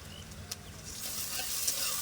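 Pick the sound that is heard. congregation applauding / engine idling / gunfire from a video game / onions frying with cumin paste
onions frying with cumin paste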